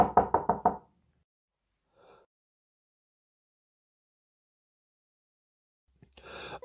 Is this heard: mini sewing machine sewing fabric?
no